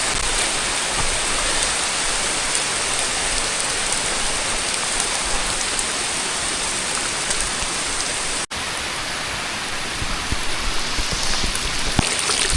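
Heavy, steady rain pours down continuously near Sondai Fort, Karjat, with a dense rushing hiss of small streams running and splashing nearby, briefly cutting out for a split second partway through.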